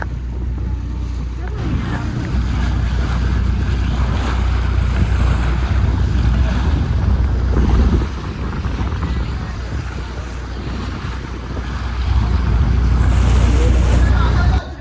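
A boat motors across choppy sea toward Elephanta (Gharapuri) island, waves churning and splashing against the hull under a constant roar of wind buffeting the microphone.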